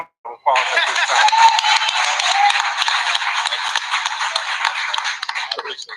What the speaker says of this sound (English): So I'm going to see if everybody can give Keith Freeman a round of applause at this time.